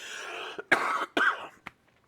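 Several short coughs in quick succession, fairly close and moderately loud, followed by silence.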